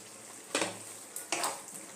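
Tomato chutney with coriander leaves and green chilli bubbles in a pan over a high flame, with two short bursts of sizzling and stirring over a steady low simmer.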